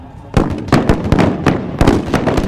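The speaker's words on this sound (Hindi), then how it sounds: "The artillery fire is on," Artillery cannon fire at an Indian Army Day parade in Delhi, a rapid series of sharp booming blasts with short gaps between them, loud and echoing outdoors.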